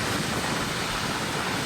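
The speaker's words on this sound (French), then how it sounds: "Il y a du vent." Steady, loud wind buffeting the microphone by a lagoon and the sea at Sian Ka'an, Mexico, a broadband roar with no voices throughout.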